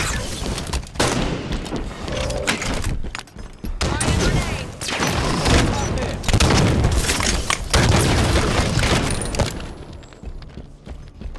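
Explosions and gunfire in a Halo 5 multiplayer match on the Vestige map, with repeated heavy booms and bursts across the clip, loud and close, including a grenade blast among the chaotic firefight.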